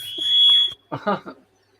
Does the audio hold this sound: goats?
no